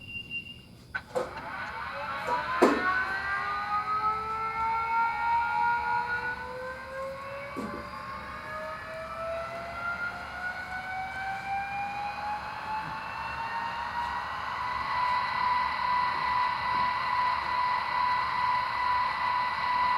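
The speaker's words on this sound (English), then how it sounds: "we're ready to fire the Turboliner up and check out some of the sounds. F8 is the startup sequence." A Rapido Amtrak Turboliner model train runs its sound-equipped startup sequence: a few clicks and a short beep, then a turbine whine that rises in pitch and builds into a steady, moderately loud jet-like roar.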